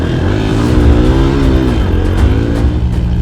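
A Suzuki DR200 dirt bike engine kick-starts and runs loud and close, revving up and down with a rough, buzzing drone throughout.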